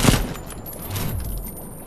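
Gunfire from soldiers in the Mortal Kombat 10 video game: a loud, dense burst of overlapping shots that rolls into a sustained rumbling volley, heard alone.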